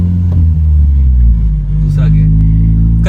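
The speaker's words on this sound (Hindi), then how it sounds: "अब गाड़ी चला के चेक करते हैं" A car engine rumbles loud and close as it pulls away in first gear, a deep steady drone with a brief dip, while someone talks over it.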